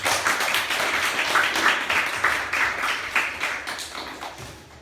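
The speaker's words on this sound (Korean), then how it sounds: "박수 한번 할까요?" A church congregation claps in congratulation during a Korean service, a moderate, slightly uneven patter of many hands that gradually thins out toward the end.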